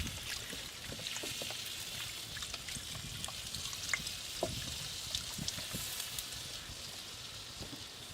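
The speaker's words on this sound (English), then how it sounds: "now I'm adding 8 cups of beef broth" Beef broth pours into a pot holding ribs and oxtails, a faint, continuous trickle and splash with scattered small drips and clinks against a quiet background.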